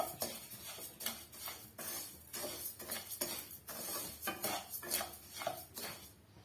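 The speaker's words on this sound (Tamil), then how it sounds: "அது வரைக்கும் நம்ம இது போலவே கிண்டி விட்டுக்கலாம்" A sweet mixture is stirred in a pan over medium heat, with a spoon scraping and clinking against the metal in a steady repeated rhythm, close and fairly quiet.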